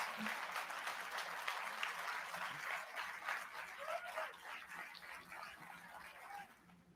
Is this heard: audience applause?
yes